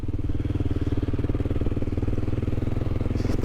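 A Kawasaki KLR650 motorcycle cruising on an outback highway, its single-cylinder engine thumping in a fast, steady, loud pulse with wind rush over it.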